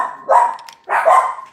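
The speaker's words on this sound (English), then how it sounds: "Why my dogs so loud?" Dogs barking close by in two loud bursts, each a rough cluster of barks with a short gap between them and no talk over them.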